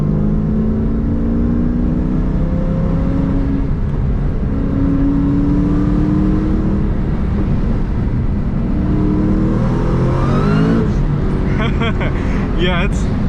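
Engine of a 700+ horsepower Terminator Cobra accelerating hard, heard from inside the car: a loud, steady engine drone with rising pitch through the run, building to a sharper rev near the end.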